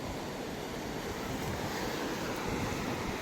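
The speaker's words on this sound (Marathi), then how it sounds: "मुलांनो तुम्हाला समुद्र दाखवतो मी मस्त." Sea waves roll onto a Konkan beach in a soft, continuous wash of surf, fairly faint and distant, with some wind in the background and no speech.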